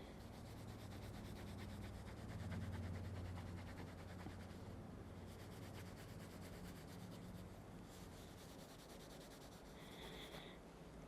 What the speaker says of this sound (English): we are going to polish this out with a microfiber cloth